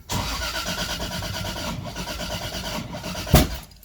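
A Toyota Supra MK4 engine, on its first start with a newly installed FuelTech FT450, cranks with a steady churning whir for several seconds, then a sharp loud pop near the end before it dies away without catching.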